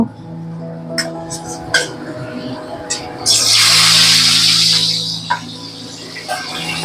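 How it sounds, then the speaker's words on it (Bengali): Hilsa fish pieces slipped into hot oil set off a loud hissing sizzle lasting roughly two seconds before easing off, heard over soft background music with a few light clicks around it. "তাই তেলটা আমার গরম হয়ে গেছে এবারে আমি মাছগুলো আস্তে আস্তে করে দিয়ে দেব"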